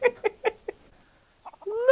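A few short clucking calls in quick succession, then a pause and a rising squawk, near and fairly clear; the calls may be a voice imitating a chicken.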